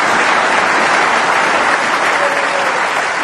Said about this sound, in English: as he gets a terrific round of applause